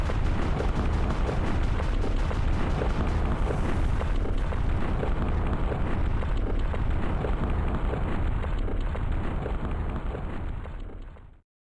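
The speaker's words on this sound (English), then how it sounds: "Victory and a little fireworks." Victory fireworks sound effect in the Freedom Planet 2 video game: a dense, loud crackling barrage of bursts and pops, sustained and even throughout before cutting off abruptly at the end.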